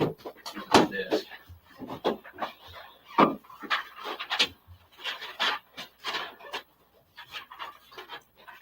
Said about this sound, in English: Can you hear the shuffling papers?